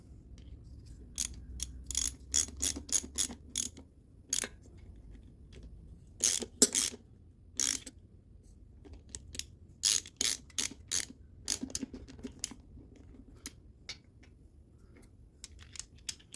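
A ratchet socket wrench clicks in quick bursts while tightening intake manifold bolts on a 1972 Corvette L48 small-block Chevy, with short rapid runs of clicks separated by pauses, close and fairly quiet.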